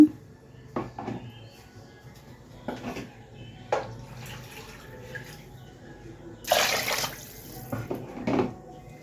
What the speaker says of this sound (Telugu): ఇందులో వాటర్ పోసుకుందాము